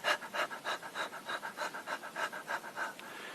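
A voice imitates a dog's panting, with quick, rhythmic breathy huffs repeating steadily for a few seconds, close and fairly soft.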